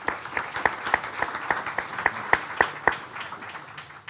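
Applause from an audience at a Greek public forum on national demographic policy, a sustained patter of many hands with sharper individual claps standing out, steady and moderately loud before slowly thinning.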